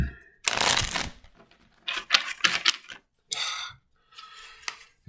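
A deck of tarot cards being shuffled by hand, close up, in four crisp riffling bursts separated by short pauses, with no talking.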